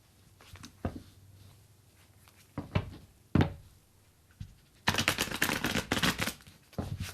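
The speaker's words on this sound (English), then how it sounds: "I'm shuffling" A deck of cards is shuffled in bursts: scattered soft riffles and taps early, then a sustained dense riffling run near the end, close and clear with no talk.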